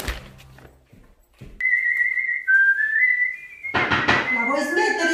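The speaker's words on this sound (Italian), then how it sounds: "Ma vuoi smettere di fischiare?" A person whistles a sustained, wavering melody, loud and close, with brief talk and clatter before it and busier household sounds building underneath toward the end.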